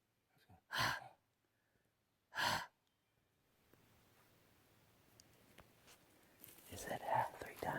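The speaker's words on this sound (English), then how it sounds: "That was something fucking breathing" Something unseen breathing outdoors in the wild, two loud breathy exhalations about a second and a half apart, then quieter rustling and a soft whisper-like rise at the end.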